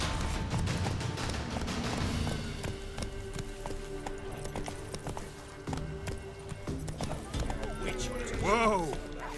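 Roach, a horse in the video game Witcher 3, gallops with rhythmic hoof clip-clops under game music and ambience, followed near the end by a brief rising whinny.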